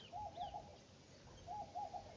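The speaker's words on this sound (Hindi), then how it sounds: "देखिए भाई चिड़िया उड़ ना जाए" Green birds call twice from some distance, each a soft, repeated cooing phrase, faint against a low outdoor background hum.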